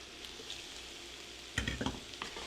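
Shrimp and mushrooms sautéing in oil with shallot and garlic in a pan, a soft steady sizzle, then a few knocks and scrapes of a utensil stirring, close and quiet with no voices.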